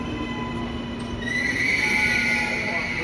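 Auckland Western Line suburban train arriving on the far platform at Newmarket station, with a steady rumble and a high wheel squeal that rises and grows louder partway through, heard alone at moderate distance.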